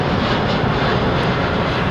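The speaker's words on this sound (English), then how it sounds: "The 737, the old 737-100s and 200s with the Pratt & Whitney engines that had the big bucket reversers on the back" A Boeing 737 jet with Pratt & Whitney engines at London Heathrow Airport, heard as a loud, steady engine roar that fills the whole moment with no break and no voices.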